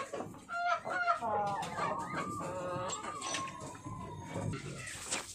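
Aseel chicks and an Aseel rooster cluck nearby, with a drawn-out, crow-like call and scattered cheeps over a soft farmyard murmur and faint speech.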